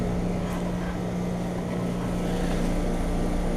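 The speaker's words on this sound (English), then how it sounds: "Standard Heritage 13 heat pump starting up in heat mode" A 4-ton 2010 American Standard Heritage 13 heat pump running in heat mode, a loud, steady droning hum with a strong low tone and broad fan rush, constant and close throughout.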